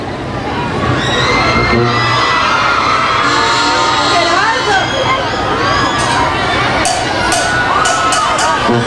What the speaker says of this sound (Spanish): Que se escuche el grito de las mujeres